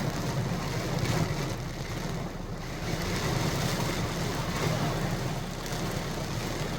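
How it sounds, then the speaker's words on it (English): Wind and rain from Hurricane Helene make a steady, dense hiss of rain with gusting wind noise, continuous and fairly faint throughout, with no talking. "It's windy and rainy."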